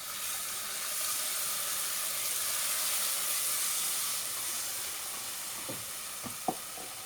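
Yogurt and gram flour mixture poured into a hot cooking pot for pakora curry sizzles and hisses steadily and fairly close, with a few brief stirring knocks near the end and no talking.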